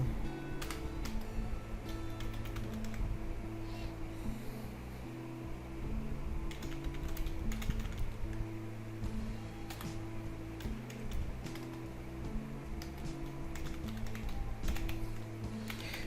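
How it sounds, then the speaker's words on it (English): Keys clatter on a computer keyboard as a code shortcut is typed, a quiet, close run of quick irregular taps with short pauses, set against a faint steady hum. "we have to type prop and press tab key twice"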